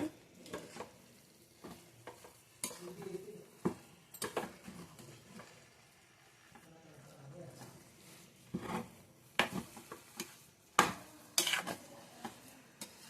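Rice upma (akki tari uppittu) being stirred in a pot after the lid comes off, with soft scraping and scattered spoon clicks against the metal, quiet and close, mixed with some louder clatters.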